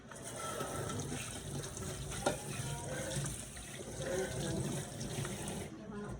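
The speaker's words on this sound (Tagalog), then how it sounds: "Pakulo lang akong tubig." Water is poured into a pot to be boiled for home cooking. It makes a faint, steady rushing trickle that runs continuously, with a brief clink partway through.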